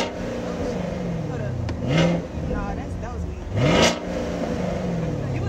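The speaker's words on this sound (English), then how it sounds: "she said she want to rev it real quick" A Jeep Trackhawk's engine is revved twice while parked, each rev a loud rising roar that falls back to a rumbling idle, with people talking nearby.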